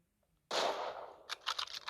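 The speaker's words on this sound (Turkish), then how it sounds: "Mosin Nagant keskin nişan tüfeği." A Mosin Nagant sniper rifle fires once in a video game with a sudden loud crack and a decaying tail, followed by several quick mechanical clicks.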